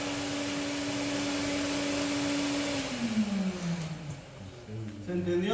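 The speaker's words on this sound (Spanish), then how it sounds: "tenemos una mesa rotacional conectada a una aspiradora en inversa" Vacuum cleaner run in reverse to blow air onto a rotating table in a lab, a steady loud whirring drone that winds down in pitch partway through, with faint room noise.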